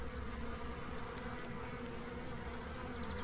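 A honey bee swarm clusters on the front of a hive instead of going in. It makes a dense, continuous buzzing drone of many bees, steady and fairly faint throughout.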